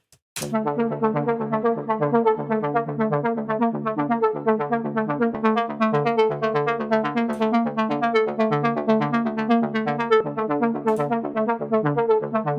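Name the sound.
synth sound with reverb and delay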